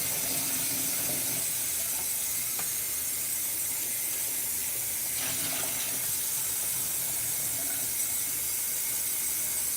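Water runs from a tap in a steady, loud, close rush with a bright hissing spray and a few small splashy changes, continuing without pause and with no voices.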